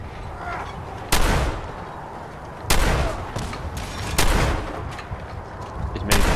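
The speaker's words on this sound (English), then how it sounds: "He's got a minigun." Heavy gunfire in Fallout 4, a minigun-like weapon, comes through as four loud, sharp blasts spaced a second or two apart, each with a rumbling tail over a noisy backdrop.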